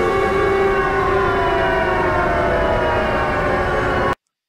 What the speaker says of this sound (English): And there goes the sirens.